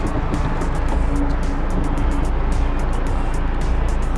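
A 2004 Renault Scenic 1.9 dCi diesel engine, 120 hp, idling steadily with a loud, continuous low rumble and a faint rhythmic ticking over the top, no speech over it.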